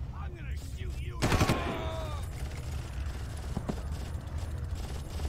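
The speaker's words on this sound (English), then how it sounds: "I'm gonna shoot you." Gunfire in the video game Far Cry, a quick burst of sharp shots near the start followed by a couple of fainter isolated cracks amid low game ambience.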